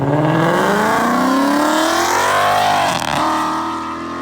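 A 2018-2019 Ford Mustang GT V8 with active exhaust, running on E85, revs loudly and raspily up close, pitch climbing steadily before easing off and dropping away.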